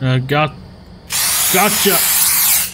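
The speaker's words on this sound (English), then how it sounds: "Just gonna fucking spray something on the rats." A spray can hisses at rats in a Puppet Combo-style horror video game set in a convenience store. A man exclaims just before a loud, continuous spray hiss of about a second and a half, and he talks briefly over it.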